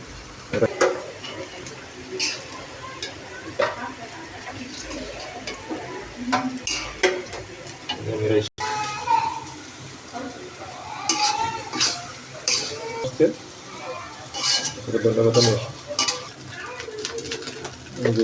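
Rice stirred and fried in a pan, with repeated scraping, clinking strokes and a soft sizzle over a long stretch, while birds chirp faintly in the background.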